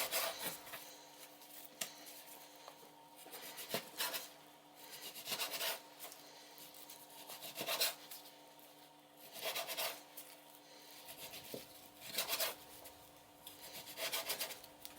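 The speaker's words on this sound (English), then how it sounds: "Then give it another go with the back of the knife." Back of a kitchen knife repeatedly striking a piece of pork on a board, irregular dull thuds and scraping rubs in bursts of two or three, soft against background music.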